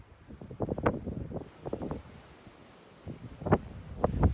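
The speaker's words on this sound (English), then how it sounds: "showing continued snowfall, but especially the strong winds that were going on today" Strong wind gusting along snowy Titus Ridge during continued snowfall, rushing in bursts against the microphone with a brief lull in the middle.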